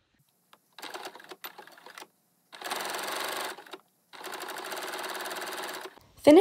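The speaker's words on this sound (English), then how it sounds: "Once you've inserted the sleeve in the armhole correctly, pin, sew, and serge." A sewing machine stitches a shirt sleeve seam into the armhole in short runs, fast and even, whirring near and clear with pauses of silence between bursts and a brief clunk at the end.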